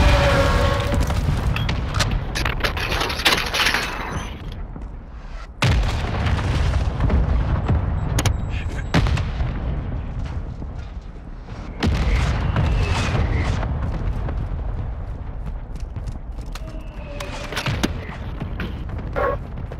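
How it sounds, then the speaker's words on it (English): Mortar strike explosions in the Call of Duty: Modern Warfare video game come as a series of heavy booms, several sharp blasts each followed by a long rumbling decay, loud and close. "Hostile mortar strike incoming."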